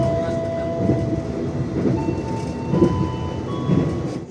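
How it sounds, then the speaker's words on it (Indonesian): The Ijen Express passenger train rumbles into Jember station in Indonesia, a loud continuous roll of wheels and carriage noise with steady tonal hums and periodic clatter beats, filling the whole stretch. "kereta api Ijen Express tiba di stasiun Jember"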